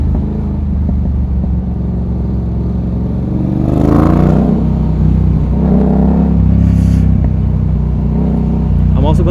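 A Yamaha MT-07 motorcycle idles and rumbles low and steady while riding slowly in traffic, its engine swelling briefly around the middle, with a voice talking over it throughout.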